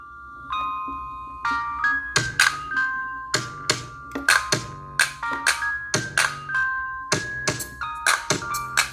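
A hot-wired Bluetooth speaker plays its bright electronic startup chime and mode announcement tones, a loud close sequence of rising beeps and repeated pinging notes with no talk over it.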